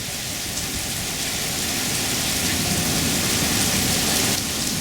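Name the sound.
rain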